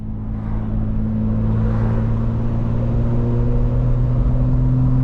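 A 900 hp 2025 BMW M4 Competition xDrive runs with its exhaust valves open, holding a loud, steady, close engine drone with a strong low hum and no speech.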